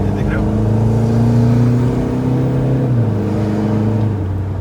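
A Stage 3 tuned Toyota Fortuner's engine droning loudly on an expressway, a steady low harmonic hum that rises slightly in pitch, then drops as the gear or throttle changes near the end, with constant road and wind noise.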